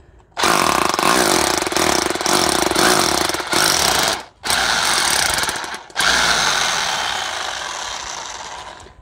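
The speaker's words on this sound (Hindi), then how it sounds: "तो यहाँ दोस्तों हम ड्रिल मशीन के साथ यहाँ होल करेंगे।" Electric drill machine boring holes for wall plugs while fitting a solar panel frame, a loud continuous grinding whine in three long bursts with brief pauses between, close up.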